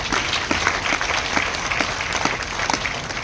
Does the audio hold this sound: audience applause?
yes